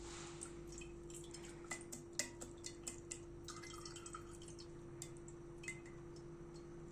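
Homemade lemonade strained through a sieve into a jug, faint scattered drips and small liquid trickles with occasional light clinks over a steady low background hum.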